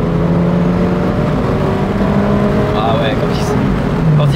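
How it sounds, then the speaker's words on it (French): Volkswagen Golf arriving fast, its engine droning loudly and rising in a continuous rush, heard up close with no break in the noise. "Ah c'est une Golf. Il arrive fort."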